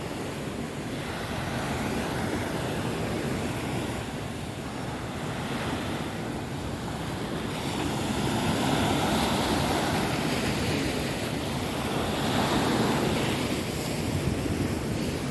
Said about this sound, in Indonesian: Lautnya berombak.